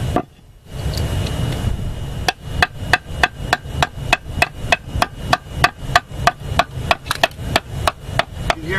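Sharp, loud hammer taps strike a cement aggregate block in a fast, even series of roughly twenty blows at masonry construction work, each one crisp and close.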